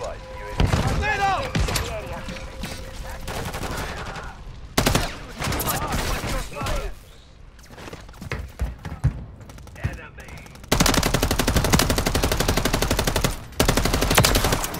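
Gunfire in Modern Warfare 3 multiplayer: bursts of automatic fire and single shots, loud and close, some heavy thuds between, alternating with quieter stretches and a long sustained burst near the end.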